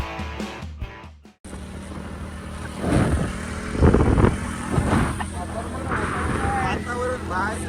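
A car rolls along a highway in the Amboli area, its engine and road noise forming a steady drone that swells and eases, while people talk inside the cabin.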